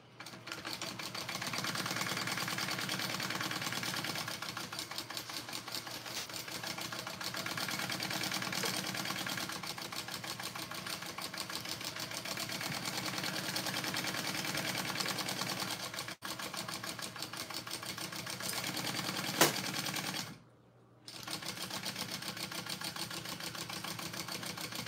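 Sewing machine stitching two fabric layers of a Barbie bag, a fast, even mechanical whir that runs steadily for about twenty seconds, stops briefly near the end, then starts again, close and alone.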